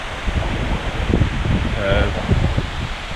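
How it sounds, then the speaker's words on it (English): Strong, steady wind buffets the microphone at a hammock campsite in Snowdonia with a continuous low rumble and rustle, while voices speak underneath throughout. "I do apologise for the sheer amount of wind noise."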